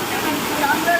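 The Lakshmana Tirtha river in Coorg rushes past in a loud, steady broadband roar of flowing water, with a voice faintly present beneath it.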